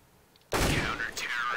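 A sudden burst of loud gunfire in a video game erupts after a quiet moment, with a second blast following closely, sharp and close.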